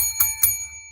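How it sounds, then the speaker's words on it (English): A bell struck twice in quick succession, bright and ringing with a short decay, in a television sports news studio. "Bring that bell, puppy."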